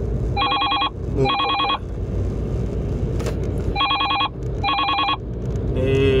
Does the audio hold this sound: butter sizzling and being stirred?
no